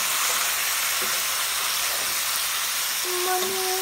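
Chicken pieces sizzle in a pan for a creamy coconut milk dish, a loud, continuous hissing fry that fills the whole stretch, with faint clinks of cookware near the end.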